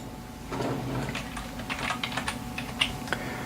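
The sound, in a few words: typing on a computer keyboard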